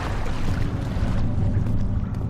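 Continuous low rushing and churning of water from a well in the dark, eerie game Amnesia: The Dark Descent, steady and fairly loud with no voices over it.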